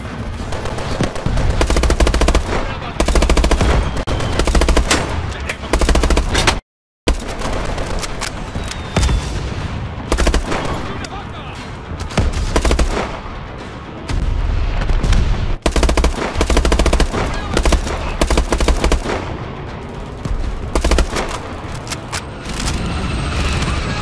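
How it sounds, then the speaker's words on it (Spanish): In Call of Duty Advanced Warfare, loud, sustained machine-gun fire rattles in long rapid bursts mixed with heavier booms, broken by one brief silent gap and a few short pauses. "Mitchell, dispare a la azotea."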